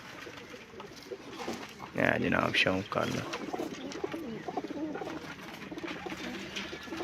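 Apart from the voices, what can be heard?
pigeons cooing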